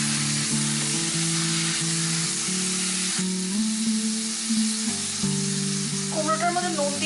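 Pumpkin and tomato go into a pan of frying onion, garlic and parsley, giving a steady, close sizzle with the scrape and clatter of stirring throughout, louder bursts of crackle toward the end.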